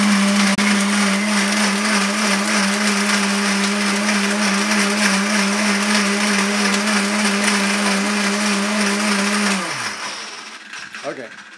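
An RPM blender whirs loudly and steadily while mixing a dairy-free date shake with cocoa and banana, a constant high motor drone that runs for about nine and a half seconds before spinning down and stopping.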